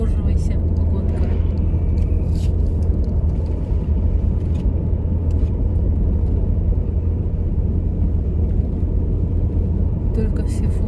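Heavy trucks rolling along a highway between Krasnoyarsk and Novosibirsk, heard from inside a moving car as a steady, dense low rumble of engines and tyre roar with no distinct pass-bys, people speaking over it.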